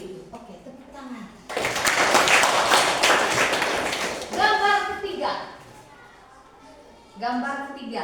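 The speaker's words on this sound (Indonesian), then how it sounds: "Oke, tepuk tangan." Children clap together in an Indonesian-language Sunday-school style lesson about Bible pictures, a burst of brisk applause lasting a few seconds between stretches of adult and child speech.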